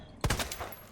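A quick burst of gunfire in Resident Evil 2, several rapid close shots packed into a fraction of a second and then fading out.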